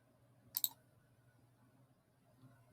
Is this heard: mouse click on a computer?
yes